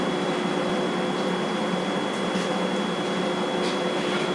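An electric motor runs steadily with its cooling fan blowing air, a constant loud whir and hiss with a faint steady tone above it and no change in level.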